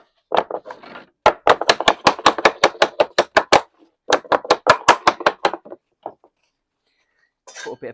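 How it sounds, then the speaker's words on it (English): Lead flashing welts are knocked up with a hammer in rapid, sharp, ringing blows, close and loud in two quick bursts separated by a short pause, then a few scattered taps. "I'll start with knocking up the welts."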